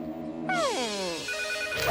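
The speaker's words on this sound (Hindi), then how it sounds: "फोन।" A cartoon telephone rings with a trilling, descending electronic bell tone, bright and close, and it cuts off shortly before the end.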